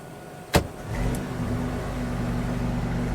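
A white 2019 BMW i8 Roadster, an electric hybrid that plays sound through an in-car speaker, gives one sharp click. A steady, low, humming engine drone then starts and holds close by.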